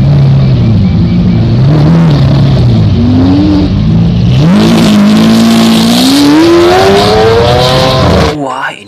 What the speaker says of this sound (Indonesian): Wow, ini ada mobil balap.